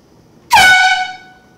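A single loud air horn blast, set off close by to wake a sleeping kid, sounding a sharp, brassy, sustained tone for about three-quarters of a second before cutting off.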